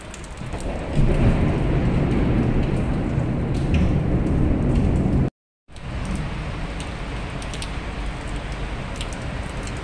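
Heavy rain roars in a dense, constant wash, loud and close, with a brief cut to silence midway before the downpour resumes.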